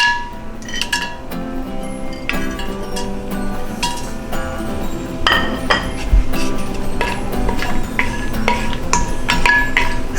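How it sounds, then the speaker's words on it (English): Spices stirred in hot oil in a pan for Indian chicken biryani: a metal spoon clinks and scrapes against the pan in repeated irregular strokes over a steady sizzle, close and busy, with no talking. "When the oil heated, we'll add all the spices."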